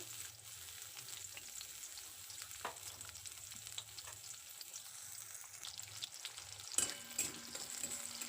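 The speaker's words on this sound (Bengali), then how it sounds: "কড়াইতে আবার তেল দিয়ে দিয়েছি দিয়ে এবার আমি রসুন দিয়ে দিলাম পেঁয়াজ দিয়ে দিচ্ছি" Garlic and onion fry in hot oil in a wok, giving a steady close sizzle throughout with a brief clatter near the end.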